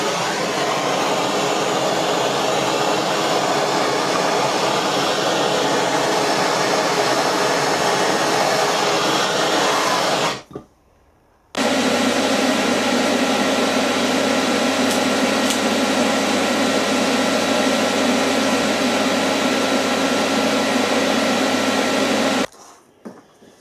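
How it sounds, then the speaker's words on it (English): Gas torch roaring steadily while brazing or bronze welding a metal joint, a loud continuous hiss that cuts out briefly near the middle, resumes just as loud, then stops near the end. "that's brazed up or bronze welded very nicely indeed"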